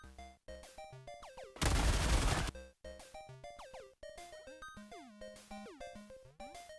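Rapid video game gunfire from the Liberator Penetrator and Pacifier guns rattles in quick bursts against a bug warrior, sharp repeated shots alongside a loud, dense blast of noise midway and tonal game effects.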